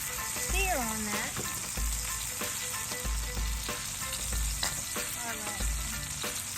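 Salmon sears in a hot pan with avocado oil, giving a loud, steady sizzle throughout, with occasional clinks and stirring sounds from utensils and faint background voices.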